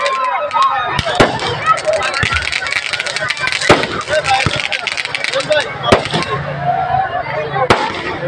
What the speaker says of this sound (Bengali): 50 বছর পূর্তি উপলক্ষে 50টা বাজি ফুটানো হবে।